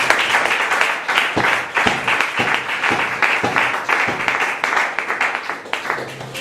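Congregation in a church service applauding, full sustained clapping from a large crowd lasting over six seconds, loud and even with a few sharper individual claps standing out.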